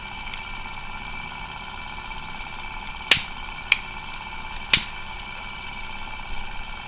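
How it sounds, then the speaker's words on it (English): Small alcohol-fuelled Stirling engine being started, a steady mechanical whir and hum with three sharp clicks or knocks at intervals, heard close and alone. "Let me see if I can get the second engine also going."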